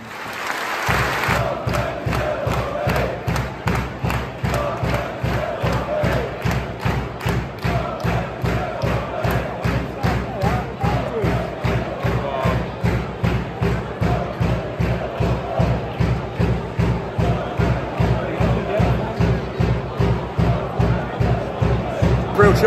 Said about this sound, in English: please stand if you're able for a minute's applause, which starts and ends on the referee's whistle